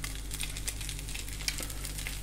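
Food fries in a pan, a steady close sizzle with crackling pops, developing a crust.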